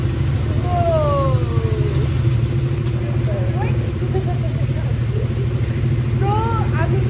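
Several motorcycles idle and rev together as a group sets off on a monsoon bike ride near Lonavala, a steady loud engine drone throughout with people talking over it.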